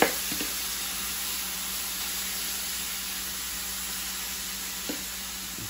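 Turkey knuckles sear in a hot pan with a steady, dense sizzle and hiss throughout, alone with no talk and a couple of faint clinks.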